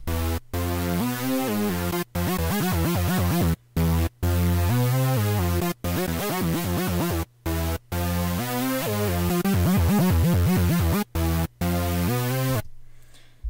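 A bright trance synth plays a bouncing melody of sustained, stepping notes, broken by short silent gaps, loud and alone without any voices.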